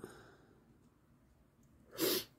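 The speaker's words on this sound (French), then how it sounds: "attention, je vais éternuer" A single short, breathy burst near the end, like a stifled sneeze, after a faint breath at the start.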